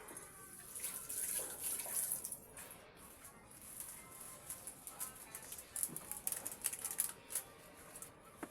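Food being rinsed under a running tap before cooking breakfast, a close, fairly faint wash of water with irregular splashes and squishy rubbing, no talk.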